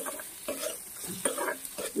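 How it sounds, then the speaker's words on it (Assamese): Paneer is stirred in a sizzling frying pan, a spatula scraping in short repeated strokes over a steady crackle of hot oil. "এতিয়া এইখিনি ধুনীয়াকৈ পনীৰকেইডোখৰত সোমাই যোৱাকৈ লৰাই দিওঁ"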